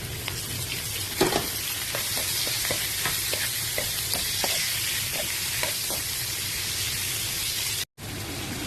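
Garlic and tomato sautéing in a pan, a steady bright sizzle with soft scrapes and stirring taps throughout, broken once by a brief gap.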